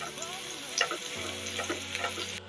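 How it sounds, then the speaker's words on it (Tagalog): Chopped ingredients with chili frying in a pan while being stirred until golden brown, a steady crackling sizzle with soft scraping stirs, close and continuous, ending abruptly. "Halo-haloin lamang po. Hanggang mag-golden brown siya."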